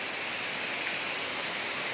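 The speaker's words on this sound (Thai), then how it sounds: "อันนี้ลำธารเล่นน้ำได้" A swimmable stream of cool water beside guesthouse lodging in Loei, Thailand, flows with a steady, unbroken rushing hiss that stays even and fairly close for the whole stretch, with no voices over it.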